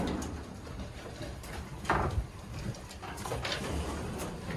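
Soft, low pigeon coos drift in and out of a pigeon loft over a dull indoor hum, with a brief scuffle or knock near the middle.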